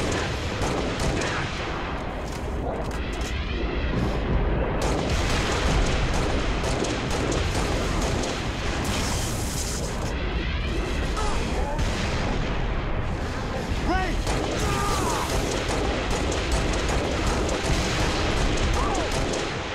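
Loud, continuous gunfire and heavy explosions in the Halo: Reach video game form an unbroken barrage for about twenty seconds, with occasional voices under the din.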